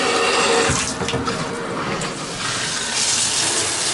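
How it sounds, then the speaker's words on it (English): Water runs hot from a tap into a new bathtub with a shower, pouring steadily and fairly loudly close by, a continuous splashing rush with no voices. "We're going to turn on the water. That's all the way to hot."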